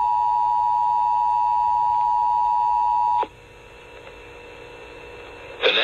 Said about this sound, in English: three attention tones.